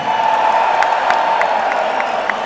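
Sold-out capacity crowd cheering and whooping inside the Prudential Center at a sumo show, a loud continuous roar with scattered sharp whistles and shouts, plus a steady tone running underneath.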